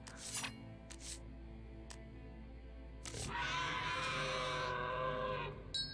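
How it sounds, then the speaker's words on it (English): A long scream sound effect from the Ascension deckbuilding video game, a sustained, loud, wavering cry lasting a couple of seconds after scattered clicks. "Man, that was a long scream."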